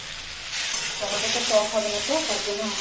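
Tomatoes hitting hot oil in a frying pan for a mixed sour dish, a steady hiss that swells after the first half second and carries faint tonal squeaks under it.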